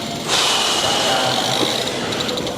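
Bicycle drivetrain on a full-suspension trials bike with a badly bent derailleur hanger, a loud, sustained crunchy grinding and clicking as the chain is pedalled through the gears, close up and without talk.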